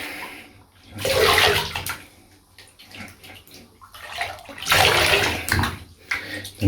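Running water rinses shampoo out of very long hair at a spa, two loud splashing gushes with a quieter trickle between them, close by and without speech.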